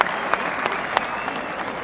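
A crowd claps steadily after the French national anthem at a bullfight gathering in southern France, continuous dense applause with a few louder individual claps.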